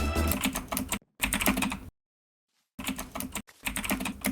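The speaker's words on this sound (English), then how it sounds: "I can hear your keyboard." Close, rapid computer keyboard typing in bursts of clicking keystrokes separated by short silent gaps, with no talking.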